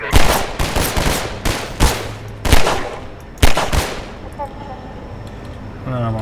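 Loud gunshots in Half-Life 2, about seven sharp reports spaced irregularly over four seconds, followed by a quieter stretch with faint tonal game sounds.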